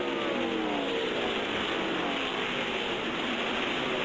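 NASCAR race cars streaming past on track, a loud, continuous roar of high-revving engines with overlapping pitch sweeps as cars pass one after another, fairly close.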